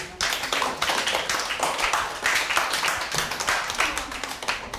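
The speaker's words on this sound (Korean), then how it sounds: "자, 박수 치고" A room of high school students claps together, a dense burst of fairly close hand claps that holds steady for several seconds before thinning slightly toward the end.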